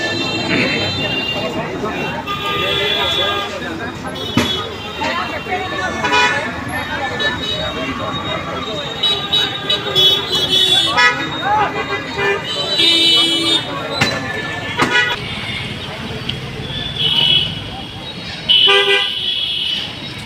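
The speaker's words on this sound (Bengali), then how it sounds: "পাঁচ রাস্তার পর দিয়ে যানজটটা বেশি" Traffic is jammed at a busy five-road junction with cars and buses, horns tooting repeatedly over a constant roadway rumble while someone talks nearby.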